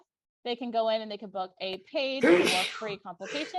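A single sharp sneeze bursts out in the middle of steady talk on a call, brief and loud against the surrounding speech.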